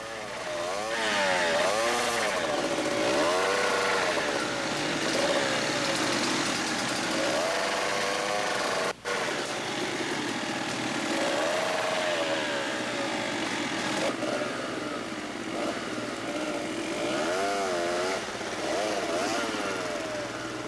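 A dual sport motorcycle revs in a deep mud hole, its engine note rising and falling in throaty surges, steady and close for the whole stretch with one brief dropout.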